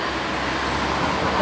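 Heavy road traffic from many cars during an event at Motor World, a close, steady, loud roar of passing vehicles with no break.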